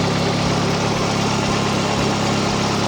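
A Nissan 240SX with an upgraded GTX2860 turbo idles steadily, a loud, even low rumble with a faint regular pulse and no other sounds.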